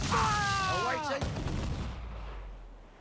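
A heavy ship cannon boom in Assassin's Creed Black Flag bursts out and rolls away into a fading rumble, following a brief sweeping tone at the start.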